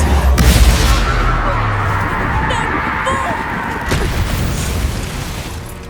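Blasting Confringo spell explosions from the video game Hogwarts Legacy boom loudly and up close, a heavy burst at the start followed by rumbling crashes, with a voice shouting over the blasts.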